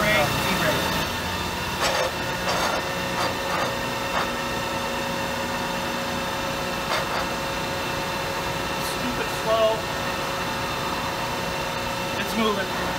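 An 18-inch by 96-inch Cincinnati Model 400-186 duplex production mill running on a very slow feed, giving a steady mechanical drone and whine with faint clanks, while someone talks over it.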